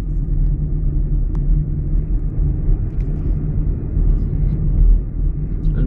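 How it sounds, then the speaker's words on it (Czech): Car engine rumble on a narrow forest path, a steady low drone that holds close and continuous throughout with no speech over it. "Jak vidíte, je proti mně auto, tak jsem hotovej."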